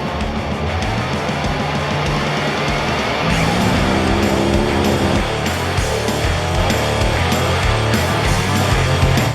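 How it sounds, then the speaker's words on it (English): Polaris RZR UTVs race in the Mint 400 desert off-road event, a loud continuous roar of engines that rises as another machine passes, with shifting engine pitch and no talking. "Scott Kiger in the number 1934 Coastal Racing RZR made a strong push on lap 1, moving from 9th to 4th."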